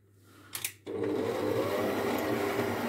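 A stand mixer starts up on low speed to knead brioche dough, a brief clatter followed by a steady motor whir that settles into a continuous hum; no one speaks.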